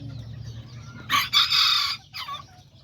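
A young rooster from an Azteca rooster line crows once, loud and close, a harsh drawn-out call with a short break and a trailing end, over faint low background murmur.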